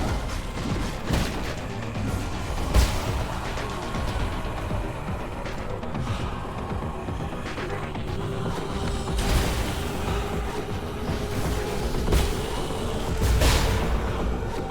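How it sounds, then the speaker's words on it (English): Big explosions in the Nine Sols action video game: dense, constant rumbling combat noise with sharp bursts and crashes recurring throughout, loud and busy without any talking. "Big explosion. Love to see it."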